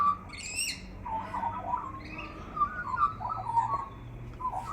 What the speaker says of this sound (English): the magpie's singing today